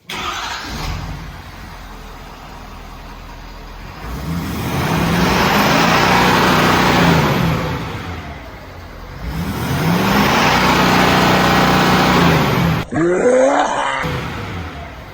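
A Ford F-350 Powerstroke diesel turns over and catches, then revs in two long swells that rise and fall, loud and near, before a brief quieter rumble at the end.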